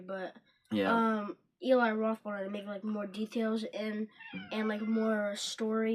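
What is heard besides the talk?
cat meowing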